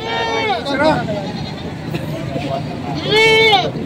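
Goats bleat loudly twice at a livestock market in Padre Garcia, Batangas, one wavering call near the start and another toward the end, over a background of people chattering.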